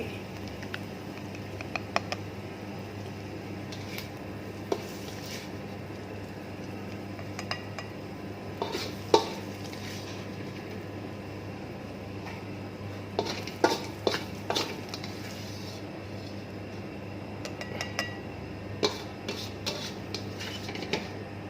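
A utensil scrapes and clinks against a pan and plate while stir-fried basil with egg and Isan sausage is scooped out, with scattered metallic taps and clatters over a low steady hum.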